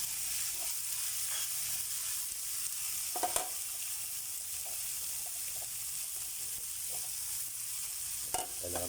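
Chopped chayote sautéing with pork and black pepper in a pan, a dense, constant sizzle with light stirring scrapes and a couple of utensil knocks.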